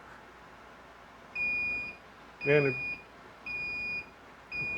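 A TUSY 5-in-1 heat press timer gives several clear, steady electronic beeps at regular intervals, microwave-like, over low room hiss, with a brief spoken voice in the middle.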